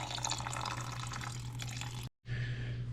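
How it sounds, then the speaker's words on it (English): Water streams steadily from the nozzle of an old water pump being repaired, a close, continuous splashing rush with a steady low hum beneath, cut off briefly before flowing again. "watching it come out of the nozzle here, the stream looks pretty good"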